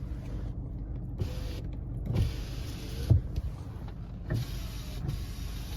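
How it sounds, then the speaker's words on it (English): Power windows on a Nissan Navara pickup: several electric motor whirs rise and fall in turn, each ending with a soft clunk as the glass stops, close up and quiet, with no talking. "All the windows work."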